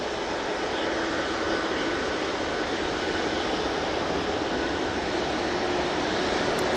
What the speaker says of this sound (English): Air France A380 off the Paris Charles de Gaulle Airport